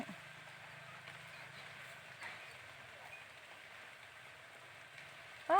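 Faint, steady evening rain patters on a surface in the background while cattle are brought into a pen, a soft continuous hiss with light drops, ending with a brief louder sound.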